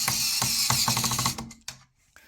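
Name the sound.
portable motorized screwdriver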